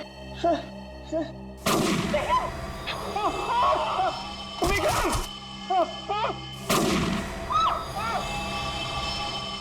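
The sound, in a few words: gunfire from a gun in a TV drama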